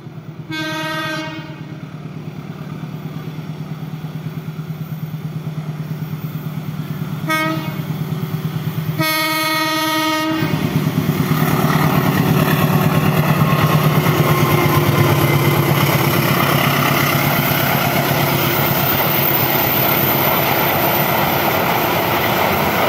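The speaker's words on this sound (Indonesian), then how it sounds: "ini ada kereta api Fajar Utama Jogja dari Jakarta Pasar Senen tujuan Yogyakarta" The Fajar Utama Jogja passenger train from Jakarta Pasar Senen to Yogyakarta rumbles past the Kelok Mertan curve, loud and close, opening with two horn blasts before a steady roar of wheels and carriages fills the rest.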